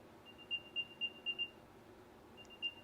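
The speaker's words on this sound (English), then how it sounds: "And that sound is coming from the AirTag, not from my phone." An Apple AirTag plays its find-me alert: a faint series of thin high-pitched chirps in quick succession, a short pause, then the chirping resumes, over quiet room tone.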